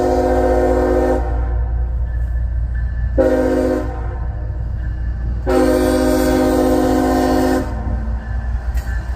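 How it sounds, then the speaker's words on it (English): A diesel freight train with three locomotives waits near an intermodal rail yard, sounding three loud, sustained horn blasts over a steady, low engine rumble. "And I think, if I'm counting right, 3 locomotives on the front."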